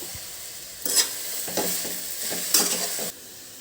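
Gongura pickle mixture with tamarind is stirred up and down in a pan, with a soft sizzle broken by several louder scraping strokes.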